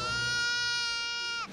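A goat gives one loud, steady, strongly tonal bleat lasting about a second and a half, close and alone, trailing off abruptly at the end.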